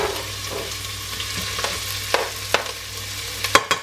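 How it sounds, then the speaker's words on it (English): Onion, leek and chopped garlic frying in sunflower oil in a pan, a continuous close sizzle punctuated by several sharp clicks and taps of stirring, with no talking. "While the onions and leek and garlic are cooking"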